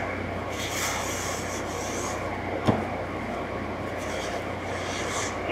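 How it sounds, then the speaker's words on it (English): A grout float scrapes excess grout diagonally across installed tile, a continuous close rasping rub that holds level throughout, with one sharp knock near the middle. "you want to scrape it off as much as you can"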